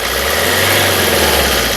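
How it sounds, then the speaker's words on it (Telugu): A Maruti Suzuki Ciaz ZDI Plus 2016/17 engine runs at a steady, even idle, a loud close hum with a low throb and no change in pitch. "ఇంజన్ యొక్క నాయిస్ చాలా సైలెంట్గా అయితే ఉందండి"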